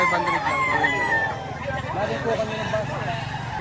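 Roosters crow repeatedly at a busy chicken market in Batangas, their calls rising over steady crowd chatter and background vehicle noise, close and loud.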